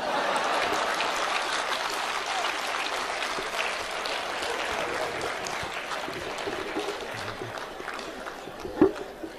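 A large audience at a live Hindi comedy stage show claps steadily for several seconds, a dense, even wash of applause with no voices over it.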